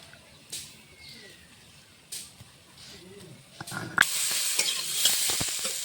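Potatoes and pointed gourd fry in a pan, starting as a faint background hiss punctuated by a few clatters, then swelling into a louder, dense crackling sizzle close by.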